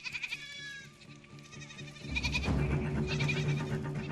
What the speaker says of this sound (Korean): 염소들은 평화롭기만 하다.